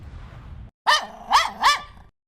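Three loud, close barks from a dog in a Hindi cartoon story, coming in quick succession after a brief burst of background noise and a short pause.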